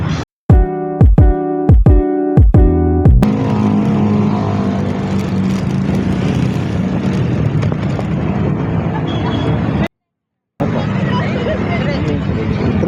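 A motorized tricycle engine passes near Abacan Creek, giving a few sharp bursts and then a loud, steady broadband rumble that drops out briefly near the end, with background crowd murmur.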